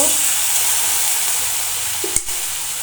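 Chickpeas and green peas fry in a pan with a little water added, giving a loud, continuous sizzle and hiss. One sharp clink sounds near the end.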